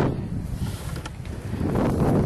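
Strong wind buffets the camera microphone outdoors on the water while fishing for flounder with a cast net, a continuous rough low roar that surges and gusts throughout without any talk.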